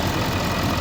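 A truck engine idles steadily with its coolant cap removed, a continuous low, even rumble close by with no talking.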